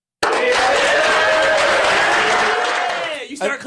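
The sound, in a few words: audience clapping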